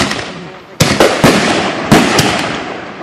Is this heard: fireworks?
yes